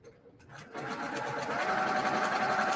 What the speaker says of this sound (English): I'm going to sew on the line.